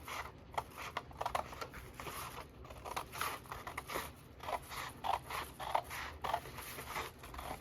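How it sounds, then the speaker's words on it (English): Scissors snip through sketchbook paper from an edge up to a fold, making a run of short close crisp cuts and scraping rustles at a quiet level, with no talking. "I'm gonna cut it from this edge up to that fold."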